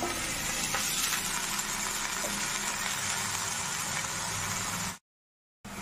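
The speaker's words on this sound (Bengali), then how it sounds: "এখন আমি অল্প ভেজে নিচ্ছি 1 চামচ সাদা তেলের মধ্যে।" Potato pieces frying in a spoonful of white oil for aloo methi paratha, a steady close sizzle lasting about five seconds before cutting to silence, then returning briefly.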